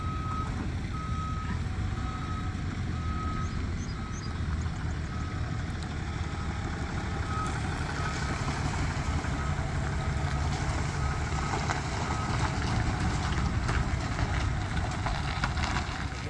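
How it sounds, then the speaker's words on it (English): A truck reverses on a farm while its backup alarm beeps in a steady repeating pattern over a continuous low engine rumble, with no talk. "We're just going to move the truck out now and get it parked."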